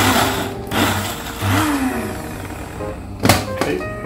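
A coffee grinder grinding spices whirs in short bursts with brief pauses between, loud and close, its pitch rising and falling as it runs.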